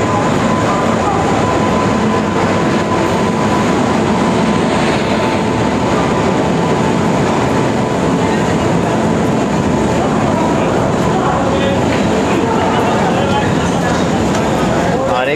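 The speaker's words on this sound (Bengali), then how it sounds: "এক নম্বর প্ল্যাটফর্মে ঢুকছে দার্জিলিং মেল।" The Darjeeling Mail rolls into platform one at a busy Indian railway station with a loud, continuous rumble and clatter of coaches passing close by, amid the hubbub of people talking on the crowded platform.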